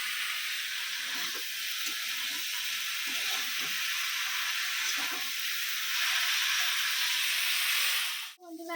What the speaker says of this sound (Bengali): এখন শিম ভাজা হচ্ছে